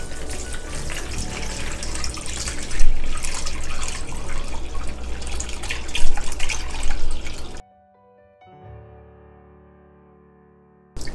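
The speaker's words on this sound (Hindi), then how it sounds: "ये मैंने बाउल के ऊपर एक पोनी रख दी है फ़िल्टर करने के लिए यखनी को अब हम इसमें यखनी डालेंगे" Mutton yakhni broth is poured through a strainer into a bowl in a home kitchen, a loud continuous splashing pour with a couple of heavier gushes that stops abruptly, followed by faint drips and near silence.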